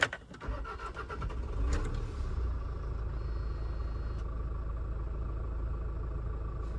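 A 2005 Kia Sorento engine cranks with a sharp jolt and catches, then settles into a steady low rumbling idle. A faint click or two sounds partway through.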